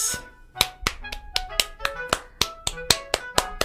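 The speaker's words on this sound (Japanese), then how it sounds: "お前に拍手を送る。" About a dozen sharp, separate hand claps land at a quick, slightly uneven pace, close and crisp against a quiet background, as one person applauds alone.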